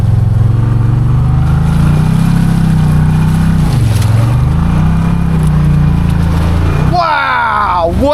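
A Can-Am Maverick Sport XMR on 35-inch Aztexs tires under hard throttle, a loud continuous engine roar near the microphone that dips once and swells again, then another engine revs sharply at the end.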